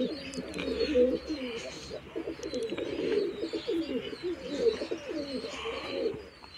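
Pigeon chicks coo steadily in a loft while pecking at feed, a continuous soft, throaty burbling from several birds close by, with faint chirps above it.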